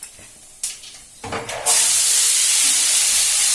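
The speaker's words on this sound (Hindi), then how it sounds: "पहले जीरा राई डाल दूंगी, हींग डाल दूंगी।" Cumin, mustard seeds and asafoetida hit hot oil for a tempering, a few soft crackles giving way to a loud, sustained sizzling hiss that fills the rest of the moment.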